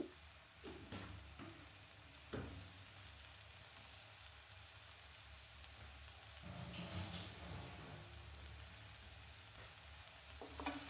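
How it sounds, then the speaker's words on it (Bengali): Onions frying in hot oil with salt in a pan, a soft continuous sizzle and crackle that swells slightly midway, with occasional light stirring clatter, close and fairly quiet. "এখন পেঁয়াজটাকে ভালো করে বেজে নিব"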